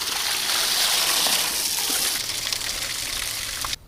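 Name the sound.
fresh water pouring for ducks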